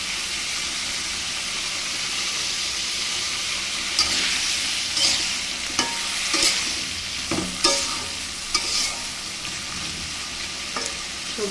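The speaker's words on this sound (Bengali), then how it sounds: "একটু নেড়ে চেড়ে তার মধ্যে মাখিয়ে রাখা সবজিটা দিয়ে দিলাম" Vegetables tossed into panch phoron in a hot wok for a vegetarian dish give a steady, close frying sizzle, broken by several sharp scraping and clattering stirs in the second half.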